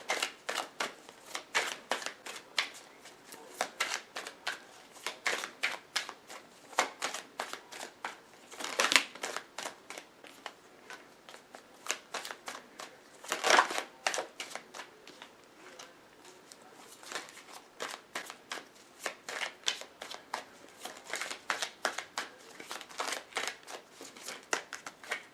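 Tarot cards are shuffled close by in repeated soft riffling bursts of crisp papery flicks, with short pauses between bursts and a few louder slaps, and no talking.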